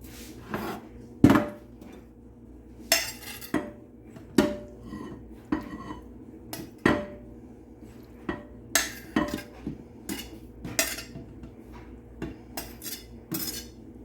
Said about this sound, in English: Wash my knife